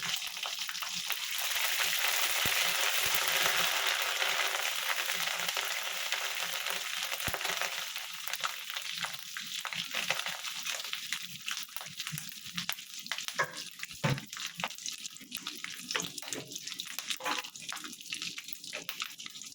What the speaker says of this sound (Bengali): রাঁধুনি ফোড়ন দেওয়ার পরে এরপর আদা বাটা যেটা, সেই আদা বাটাটা দেব।